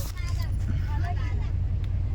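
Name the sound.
car driving after starting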